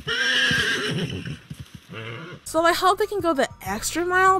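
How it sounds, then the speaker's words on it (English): Low neighing of an Ardennes horse, a deep drawn-out whinny heard alongside a talking voice, with further neighs and snorts after a brief break, loud and close. "Adrenuses make these low neigh sounds, which sound like this."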